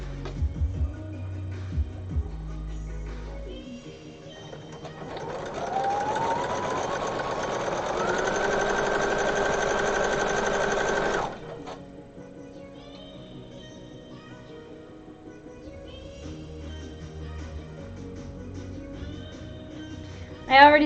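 A sewing machine runs a narrow zigzag stitch in one steady, whirring burst of about six seconds that stops abruptly, set between quieter stretches of background noise and small handling sounds.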